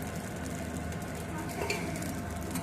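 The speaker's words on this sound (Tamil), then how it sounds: "நான் எப்படி ஊற்றுறேன் காமிக்கிறேங்க." Corn dosa batter sizzles faintly on a hot pan, a soft, steady hiss with light crackle throughout the short moment.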